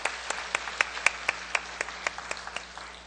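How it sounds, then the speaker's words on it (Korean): In a church service, a handful of distinct claps ring out in an irregular rhythm over faint background hiss, sparse rather than a full ovation. "우리 한번 큰 박수로 축복해 주시길 바랍니다"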